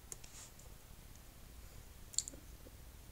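Faint, sparse mouse clicks sound during a session of the dungeon-crawler game Dungeons of Dredmor, a few soft ticks over quiet background hiss.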